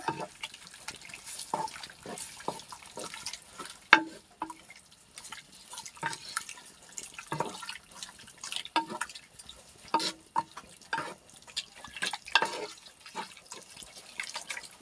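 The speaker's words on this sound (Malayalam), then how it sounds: "ഇതൊന്നായിട്ട് ഇളക്കി കൊടുക്കാം" Crushed spices are stirred into beef in a pot, making soft, wet scraping and squelching sounds in quiet, irregular bursts.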